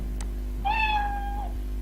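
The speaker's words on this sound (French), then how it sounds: "de jouer le son miaou" A single clear cat meow, short and rising then falling, over a steady low hum.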